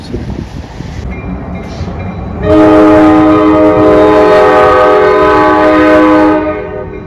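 A shortline railroad locomotive running light in snowy weather sounds a loud, sustained multi-tone horn over steady engine rumble and rail noise, close by, with a lower rumble before the horn starts.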